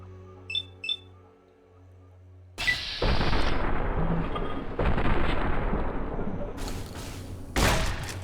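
Heavy weapon fire erupts in Fallout: New Vegas during the Old World Blues add-on as an alien attacks. A few short electronic beeps come first, then loud, booming blasts roar almost continuously, with sharper cracks near the end.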